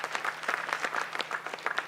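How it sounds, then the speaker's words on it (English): Brief applause from an audience at a church talk, a scattered patter of hand claps heard fairly faint and distant. "Give her a round of applause."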